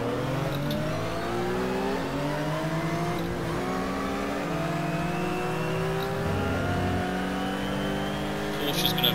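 Race car engine in a racing video game revving and shifting through gears, rising and dropping pitch steadily over a chicane approach, loud and continuous with no talk.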